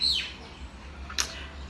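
A bird chirps outdoors with one quick descending chirp, then a second short call about a second later, both faint over a low steady hum.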